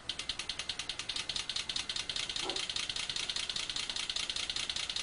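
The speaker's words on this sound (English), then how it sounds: "So this is what it would sound like if it was idling." Water injection system pulse train set to simulate an idling car engine, a faint, rapid and steady ratcheting tick repeating evenly throughout.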